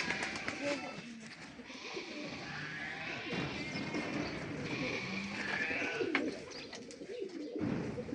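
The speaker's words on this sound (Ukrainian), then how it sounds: "Голуби. Теж їх тут багатенько." Pigeons cooing in an enclosure at the Kharkiv Ecopark among a busy outdoor background of rustling, flapping and indistinct voices, fairly close and continuous.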